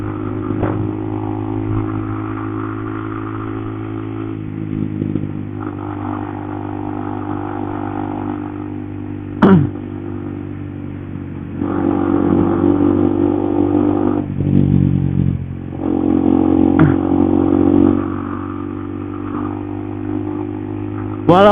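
A Honda CBR 150R motorcycle engine runs throughout, a steady mid-pitched drone with tonal harmonics that swells into revs a few times, punctuated by brief clatters.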